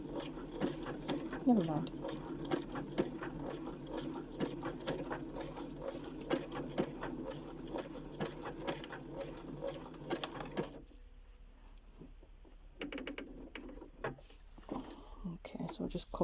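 A sewing machine chatters steadily while back stitching on a craft embellishment, then goes quiet and restarts in short bursts, with someone talking softly throughout.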